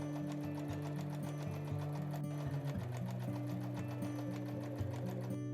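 Sewing machine running steadily while topstitching fabric near a folded edge for a bow tote bag, a continuous close mechanical whir with brief pitch shifts as the speed changes, no talk.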